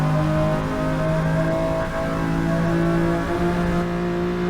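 Ferrari 365 GTB4 V12 engine pulling hard down a short straight at Le Mans, a loud, sustained rising engine note heard from close by with steady revving and no talk.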